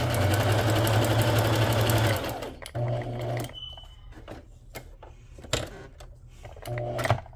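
A sewing machine stitching through paper runs in a loud, fast continuous whir for about two seconds, then stops, followed by short bursts and light handling clicks.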